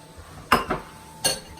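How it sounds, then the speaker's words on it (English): Shrimp being tossed with seasoning in a bowl gives a few brief clinks and knocks of a utensil against the dish, three distinct taps over a quiet background. "just going to mix my shrimp around and get the seasoning all over my shrimp"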